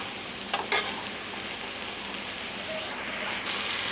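Eggplant curry pieces are stirred in a pan, a soft, low, steady crackle with a couple of brief sharp scrapes near the start, faint and close.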